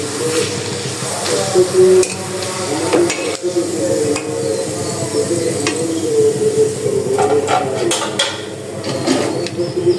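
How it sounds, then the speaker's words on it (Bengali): Homemade papri pitha cakes made from flour fry in a pan, with oil sizzling steadily and occasional stirring and scraping. The sound is close and fairly loud, with no talking. "আমি যে পিঠাগুলো বানাইছিলাম ওগুলা ভেজে নিব কয়েকটাকে আপনাদের ভাইয়ার জন্য।"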